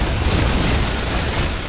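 A film explosion set off by a phone call: a loud, sustained roaring blast fills the whole short moment with dense rumbling noise and no voices.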